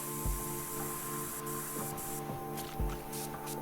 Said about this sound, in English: I like the idea of just spraying the targets first before everything else.